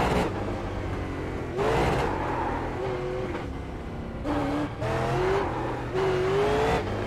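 Super Late Model race car in iRacing at USA International, engine droning loud and steady while the pitch climbs and falls through repeated shifts and revs, with no talk over it.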